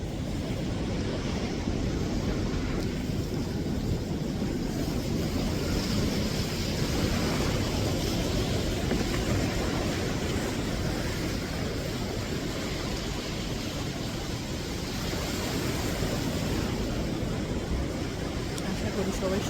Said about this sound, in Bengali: আশা করি সবাই সমুদ্রের শব্দ শুনতে পাচ্ছেন, সমুদ্রের গর্জন